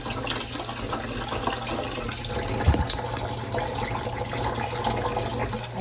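Water runs steadily into a sink as rice is rinsed and swished by hand, a continuous close splashing wash with a brief louder slosh partway through and no talking.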